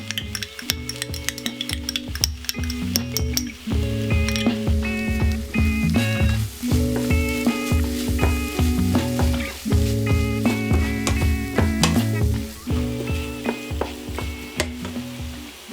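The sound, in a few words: stirring flour and ketchup in a frying pan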